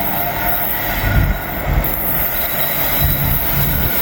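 Intermodal freight train rolling down a hill, loud and continuous with high-pitched wheel squeal over rumbling railcars and occasional clacks, close by.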